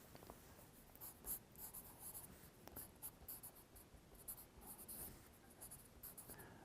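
Pen writing on paper close by, a soft continuous scratching with small rhythmic strokes and pauses, faint and alone.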